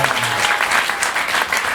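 Brief burst of dense clapping from a comedy show crowd, loud and close, with no voices over it.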